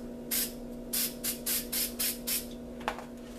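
A spray paint can hisses out about seven short, sharp bursts in an even rhythm, then one brief final puff, close by over a low steady hum.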